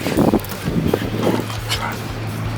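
A min pin reacting to other dogs, with yips and whimpering barks over a steady low hum, moderately loud and close, mixed with background voices.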